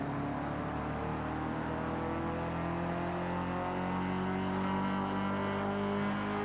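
A simulated F-series car engine in the Forza Horizon 6 racing game, revving continuously with a strong harmonic drone that climbs steadily in pitch, loud and alone.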